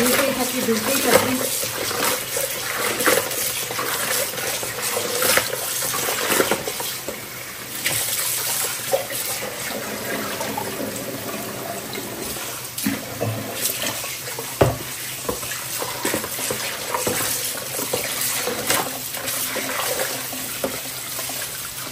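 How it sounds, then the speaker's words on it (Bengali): Running tap water splashes steadily over fish being washed by hand in a home kitchen sink, a continuous close rush with occasional clatter and handling sounds throughout. "পিছলা না দেওয়া পর্যন্ত মাছ এভাবে ধুইতেই থাকি"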